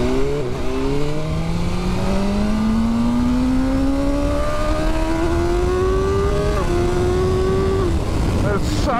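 BMW M1000R straight-four sport motorcycle accelerating hard on the road, engine pitch climbing steadily through several gears with brief dips at the shifts, loud and close beneath steady wind rush.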